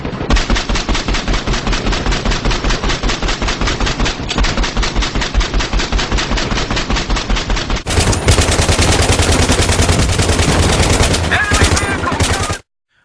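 Sustained light machine gun fire in Battlefield 3, a steady rapid rattle of rounds that breaks briefly, then resumes with a harsher, brighter burst before cutting off abruptly.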